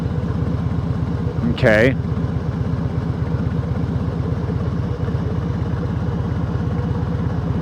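Carbureted Harley motorcycle engine idling roughly, a close, loud, lumpy pulse thumping on without pause, with a brief spoken word cutting in early.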